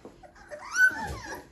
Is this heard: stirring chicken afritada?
no